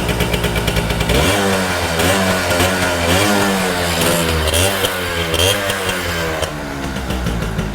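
A two-stroke motorcycle engine running close by, loud and buzzing, revved repeatedly in rising and falling surges after it starts up.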